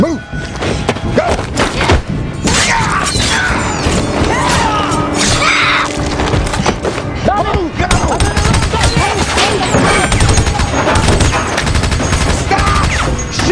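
Gunfire in a superhero movie action scene, loud dense volleys of shots mixed with thuds, crashes and shouting voices throughout.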